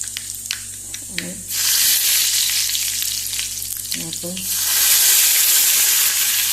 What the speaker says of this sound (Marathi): आतां तातूंत हे पळय दाळ घालुया, हिंग घालुया, मातशें उदक आसलें तें पडलें